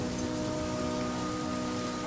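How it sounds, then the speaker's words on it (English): Steady rain falls in The Flame in the Flood, a dense, even hiss with a low hum underneath, continuous and unbroken with no voices. "And just pray the rain stops."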